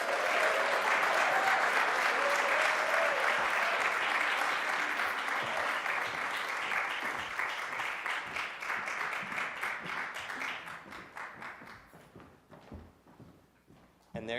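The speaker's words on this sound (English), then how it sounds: "let's give them a round of applause" Audience applause for five educators walking onto a stage at an evening event with a schools chancellor, a loud sustained crowd clapping that gradually thins and fades out over about fourteen seconds.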